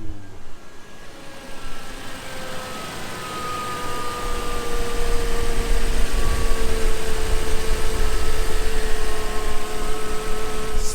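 A Land Cruiser LX470 engine idles steadily after a tensioner pulley bearing replacement, a low rumble with a thin, faint whine from the power steering running continuously and growing slightly louder.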